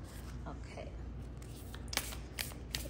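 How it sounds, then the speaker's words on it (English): An oracle card deck, a Minty Oracle Feather Heart set, shuffled by hand in a quiet room, giving soft papery riffles and a few sharper snaps near the end over a low steady hum. "Let me just do a quick shuffle."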